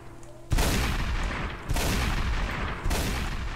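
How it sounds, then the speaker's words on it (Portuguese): Gunfire in the video game DayZ, heavy bursts of shots starting in three sudden waves, loud and continuous, as if from a firefight below. "Esses tiros aí são muito realistas"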